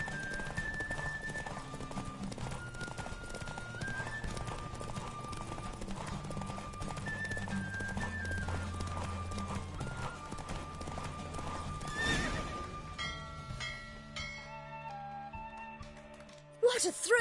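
Rhythmic hoofbeats of horses galloping in a race in the video game The Witcher 3: Wild Hunt, backed by steady music, with a whinny and a burst of shouting near the end.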